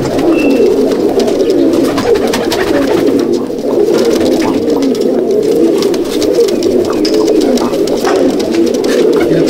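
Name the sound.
Madrasi Kalanka pigeons released from loft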